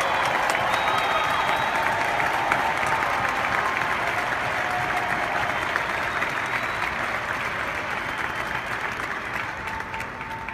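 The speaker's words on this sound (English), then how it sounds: "Please give them a round of applause." A large audience gives a long, steady round of applause for standing military service members, a thick continuous clatter of hands that holds its level for several seconds and then tapers gently.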